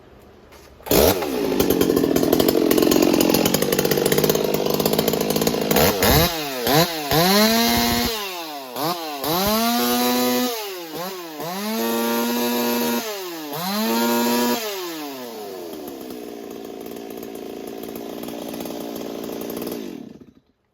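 A Stihl 026 chainsaw over 30 years old, freshly running after a spark plug gap fix, is started and revved repeatedly: a loud, close two-stroke snarl climbing and dropping between idle and full throttle before shutting off.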